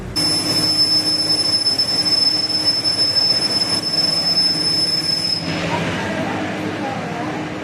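Piercing, steady metallic squeals from train wheels ring over a rumbling rail car, then suddenly cut out, leaving the lower rolling noise.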